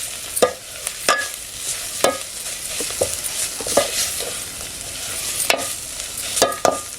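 Goda masala sautés in a pan for village-style chicken, with repeated sharp spatula scrapes and clinks over a continuous close sizzle, no voices.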